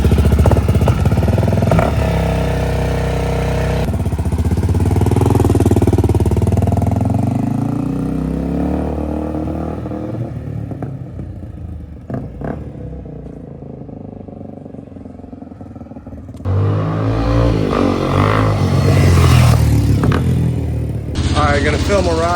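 A marketplace-bought dirt bike, such as an XR400 or DRZ400, runs outdoors at the dunes, its engine idling and revving through rising and falling pitch sweeps. It stays close and loud, with people talking over parts of it.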